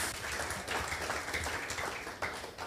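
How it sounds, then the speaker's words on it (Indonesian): A church congregation applauds during a sermon, a dense continuous wash of clapping from the whole room that fills the moment with hardly any talk. "Tepuk tangan bagi Tuhan Yesus."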